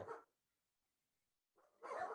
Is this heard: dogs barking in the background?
yes